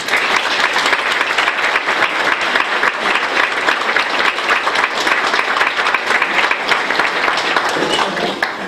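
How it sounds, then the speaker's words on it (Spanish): Sustained applause from a festival audience at a fiesta presentation in Graus, dense steady clapping filling the whole stretch with crowd murmur, no speech. "pedir un sincero aplauso para ellos"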